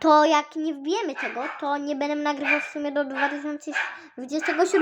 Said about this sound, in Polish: co tam szczeka, to to mój pies.